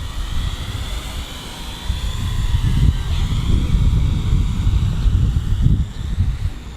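A small WL Toys Q393 Dragonfly 2 quadcopter drone hovers nearby with a steady high-pitched rotor whine, over outdoor wind rumble gusting underneath.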